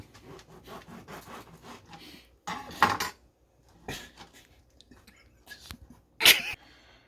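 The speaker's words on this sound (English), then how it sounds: "you just want to do a little slice like this right here" A knife slicing into a fresh, scratch-made hoagie roll from a Publix bakery, giving soft crusty scraping strokes, then a louder crunching cut and a sharp clack near the end.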